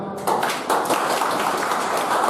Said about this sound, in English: best clap for yourself